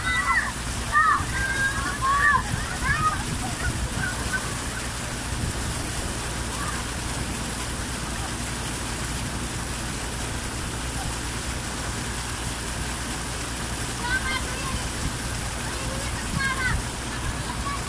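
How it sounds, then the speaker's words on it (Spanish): Steady rushing water fills the whole stretch, a constant roar like a nearby waterfall, with faint voices and splashing over it. "Están en una cascada"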